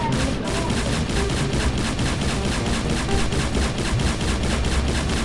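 Dense, continuous automatic rifle fire in a Roblox game, rapid bursts packed tightly together and loud throughout, with voices faintly mixed underneath.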